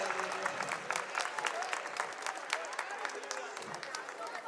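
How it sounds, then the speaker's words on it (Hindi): Applause at a Republic Day celebration, steady crisp clapping from a crowd lasting several seconds at moderate distance, with voices mixed in underneath. "जोरदार तालियां।"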